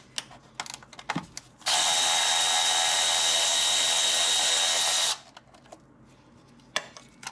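Bolt on a Honda J-Series V6 coming off with a 10mm socket on a power tool, a loud steady whir lasting about three and a half seconds between quieter clicks and handling noises.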